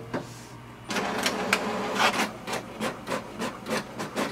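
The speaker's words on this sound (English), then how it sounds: "Now wait for the printer to print a report." An HP Deskjet 2755 inkjet printer prints a status report, starting with a low motor hum and then making a steady series of rhythmic carriage swipes and paper-feed rasps, close and moderately loud.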